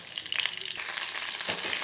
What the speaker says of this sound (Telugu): ఇందులో బెండకాయ ముక్కలు వేసి కొద్దిసేపు అయితే వేయించుకోవాలి